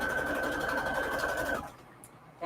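Sewing machine running steadily as it stitches a quarter-inch seam through gray quilt fabric, a close, continuous whir for about a second and a half that then stops, leaving near silence.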